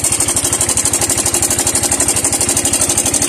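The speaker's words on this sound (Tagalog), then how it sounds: "So yan po ay ang actual na tunog ng timing chain ng Mio Sol i125." Yamaha Mio Soul i 125 fuel-injected scooter engine idling up close, with a rapid steady mechanical pulsing and a hissy rattle from a noisy timing chain, no talking.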